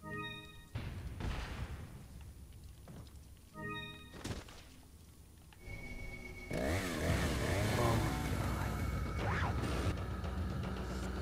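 Chainsaw-wielding enemies in Resident Evil 4 rev their saws in short bursts, then a louder sustained roar grinds on. A player gives one brief exclamation over it.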